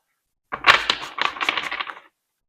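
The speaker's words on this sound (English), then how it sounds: "I'll shuffle this the wrong way." Tarot cards are shuffled roughly, producing a short burst of quick riffling, flicking snaps and papery clatter lasting about a second and a half, close and alone with no speech.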